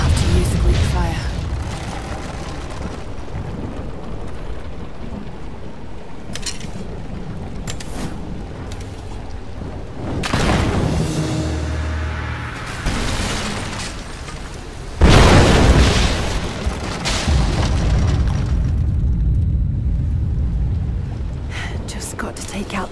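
Greek fire bursting against a statue's supports in Tomb Raider, heavy booming blasts and roaring fire with crumbling rumble, one big eruption near the middle and another sharp hit later, loud and close.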